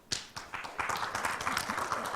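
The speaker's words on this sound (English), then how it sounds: "No applause, please." Scattered claps from a debate audience at a Cherokee Phoenix candidates' debate, a few sharp separate hits building quickly into brief, moderately loud applause.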